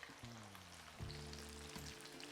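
Shrimp frying in hot oil, a steady close sizzle and crackle throughout, with some low tonal hum underneath.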